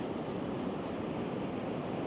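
Pilot Falls pours with a heavy, unbroken roar of rushing water, a dense steady wash with no voices.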